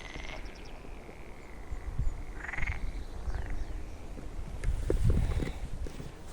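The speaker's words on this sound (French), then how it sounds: "vraiment énormément de grenouilles. J'espère qu'on l'entend à la caméra" Many frogs croak together at a large pond in the Fagne des Tailles wetland, a dense overlapping chorus at moderate distance with a few louder calls rising near the end.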